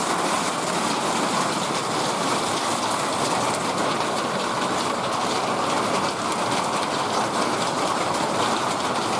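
Heavy rain falls steadily and runs off a roof without gutters, a dense, even, close wash of patter and trickling that holds constant throughout with no voices.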